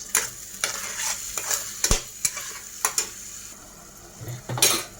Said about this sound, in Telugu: ఇందులో కాస్త పసుపు కూడా వేసి ఉల్లిపాయ అయితే బాగా కలుపుకొని మగ్గించేసుకుందామండి